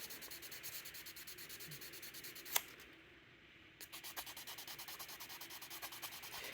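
A Case knife is sanded by hand with 320 grit abrasive in quick, even back-and-forth strokes that rasp softly. The strokes pause briefly after a sharp tap, then resume at the same steady pace, faint and close.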